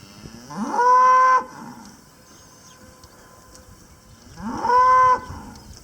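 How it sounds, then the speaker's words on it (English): An agitated cow moos loudly inside a barn building, two long bellows a few seconds apart with quiet stretches between, and no talking. "There's a angry cow in the building."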